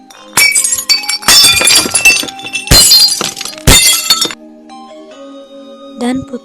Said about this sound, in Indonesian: Prang-pring yang ada di tangannya jatuh, pecah berkeping-keping